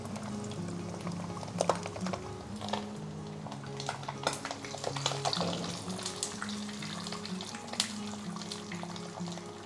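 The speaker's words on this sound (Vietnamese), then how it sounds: "Lúc này thì mình sẽ chiên cái bì trước cho bì nó dai lại." Pork skin sizzles and spatters in a hot pan, a steady loud crackle with occasional sharp pops and utensil clinks.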